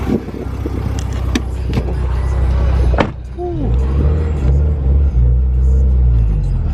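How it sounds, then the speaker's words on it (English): A modified, orangish-red Subaru STI rumbles with a deep, steady exhaust note heard close up, broken by a single thump partway through. "from the tone, the exhaust note of it, you would not expect this car to be that crazy"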